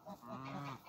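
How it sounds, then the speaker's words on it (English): Geese on a farm in breeding season give a quick pair of nasal honks, the second one drawn out, heard at moderate distance against a quiet outdoor background. "Geeses. We're definitely getting into breeding season."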